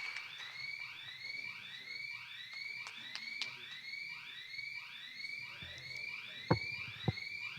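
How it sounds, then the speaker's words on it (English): An alarm in a hall sounds as a rapid series of repeating electronic sweeping whoops, steady and fairly distant, with a few faint knocks and thumps near the end. "Somebody set the alarm, it sounds like."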